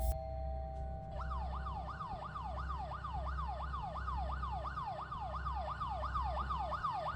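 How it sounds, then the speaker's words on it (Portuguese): A police siren in the video game Fears to Fathom wails in a steady rapid rising-and-falling cycle, loud and continuous over a low rumbling engine-like drone. "o som da sirene da polícia começa a ecoar pelo local"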